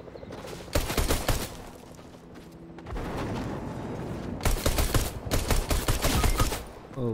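Pistol gunfire in the video game Fortnite, loud bursts of rapid shots coming in clusters separated by brief quieter gaps.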